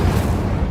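Incendio fire spell cast in Hogwarts Legacy, a brief dense burst of low roaring flame rumble, loud and close, lasting under a second with no talk.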